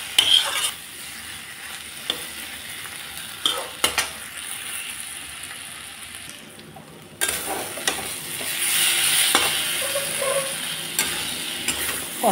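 Potatoes and vegetables stir-fried in a pan after the lid comes off, a soft sizzle broken by irregular spoon scrapes and knocks that swells louder toward the end, no voices.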